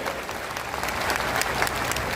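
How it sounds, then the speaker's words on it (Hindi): A crowd at a Jan Suraj political gathering in Patna claps loudly to welcome Dr. Jagriti, a dense, steady wash of applause that swells slightly toward the end. "जोर से ताली बजनी चाहिए।"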